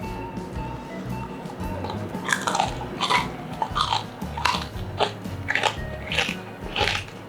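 Crispy fried pork belly, made with vinegar and salt, crunches loudly with each bite close to the mic, followed by rhythmic chewing and crackling.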